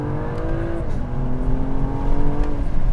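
A BMW M240i downshifts and accelerates hard, its engine note dropping briefly then climbing in a rising, rough growl that swells louder over a few seconds, close and without talk.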